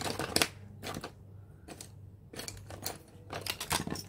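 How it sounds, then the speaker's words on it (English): Scissors cut paper for a journal, making several close, crisp snips and rustles in short bursts separated by quiet gaps. "scissors."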